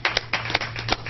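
A church congregation gives a quick victory clap, a brief burst of several rhythmic, overlapping hand claps heard together.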